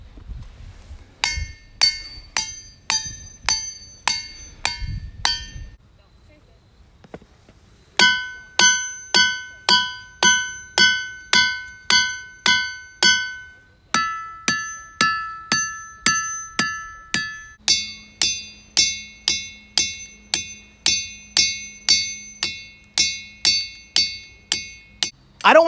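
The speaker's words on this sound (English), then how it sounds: "as you're smashing these, little chunks of rock are definitely flying off everywhere." A hammer strikes ringing rocks at Ringing Rocks Park in Upper Black Eddy, Pennsylvania, each blow giving a sharp bell-like metallic ping; steady rhythmic series of strikes whose pitch changes as different rocks are hit, close and clear.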